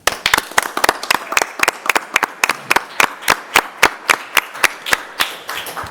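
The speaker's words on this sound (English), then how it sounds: "I'd like to give them a round of applause." Sparse clapping from a small audience at a public school board meeting, a few people clapping in a quick, uneven rhythm for several seconds, close and fairly dry.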